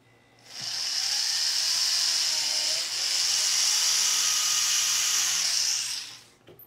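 A small setting burr drills holes into a metal ring for flush-set stones, one high steady whine lasting about five seconds that starts and stops cleanly.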